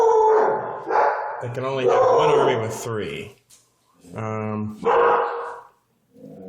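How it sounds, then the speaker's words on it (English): Dogs barking at home, heard as a few loud barks and yowls in bursts that overlap someone talking nearby. "Sorry about the dogs."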